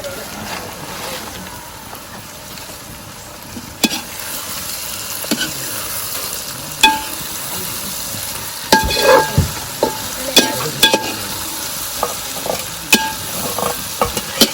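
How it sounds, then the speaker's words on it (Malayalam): Fried cauliflower stirred into a sizzling masala of tomato, turmeric and chili powder for Gobi Manchurian: a steady hiss of frying, with spoon scrapes and clatters growing busier and louder in the second half. "അടുത്ത് നമ്മൾ മുന്നേ വറുത്ത് വെച്ചിട്ടുള്ള കോളിഫ്ലവർ ഇതിലേക്ക് ആഡ് ചെയ്യാൻ പോകുന്നത്."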